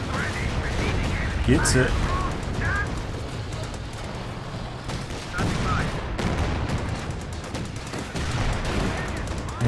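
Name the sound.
HE shell artillery barrage in Company of Heroes 2 video game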